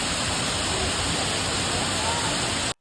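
Waterfall at Bato Spring, cold water pouring steadily in a loud, continuous broadband rush that fills the whole span before cutting off abruptly at the end.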